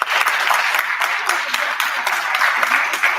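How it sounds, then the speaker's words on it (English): Graduation ceremony audience clapping steadily and loudly for about three seconds, a dense wash of many hands with no break. "let's give him one more round of applause"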